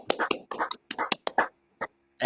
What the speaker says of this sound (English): maybe a small round of applause from a couple of people